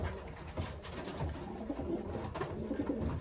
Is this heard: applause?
no